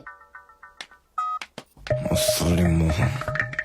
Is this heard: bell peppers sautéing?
no